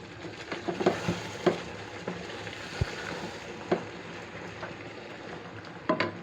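Beef liver cooks in a pan, a steady soft sizzle with scattered spatula scrapes and occasional sharper clacks against the pan, close and moderate in level.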